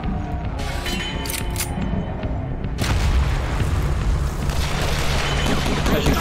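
Explosion in the video game Huntdown, a sudden deep boom that swells and lingers as a dense rumbling roar after quieter game sounds.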